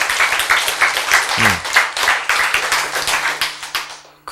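Brief, lively clapping from an audience at a Korean lecture, distinct claps in a quick rhythm fading toward the end, with a faint murmur of voices underneath.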